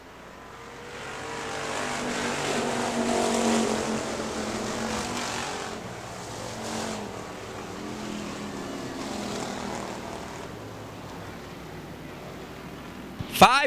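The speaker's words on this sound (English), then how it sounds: "Five-car battle for the number 2 spot, led by Ray Loomis." Factory stock race cars at Hartford Speedway Park during a five-car battle, engine roar swelling and fading as the pack passes, loud at first then steadier, with a commentator's voice over the racing.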